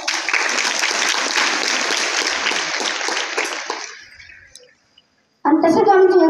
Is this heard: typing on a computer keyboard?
no